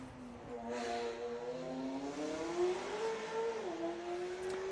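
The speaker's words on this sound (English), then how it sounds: "Listen to that engine note." A McLaren race car at a historic sprint event in Leyburn, Australia, its engine note droning and climbing in pitch through the gears, fairly close and steady with a slight dip near the end.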